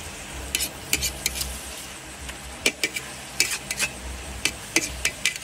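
Kangkong with butter and garlic is stirred in a frying pan: sharp metallic scrapes and clinks at an irregular rhythm over a soft, steady sizzle, close and fairly loud, with no talking.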